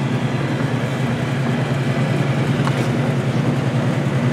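Belt-driven bathroom exhaust fans in a building's mechanical system run continuously, a loud steady low hum and broadband whoosh with a constant tone, no talk over it.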